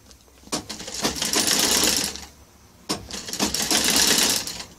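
Sewing machine stitching a thick wine-coloured plastic bag rug, running loud in two long bursts of rapid whirring stitches separated by a short pause, no talking.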